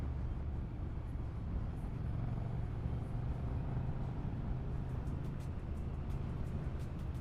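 A 2022 Triumph Street Twin motorcycle running steadily on the road, with a continuous close engine and wind roar throughout and no speech.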